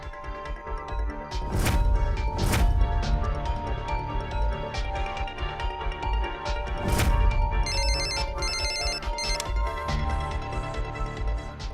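A telephone rings with repeated electronic trilling bursts during a tense domestic scene, loud and close, with dramatic crashes and thuds of background music around it and no talk.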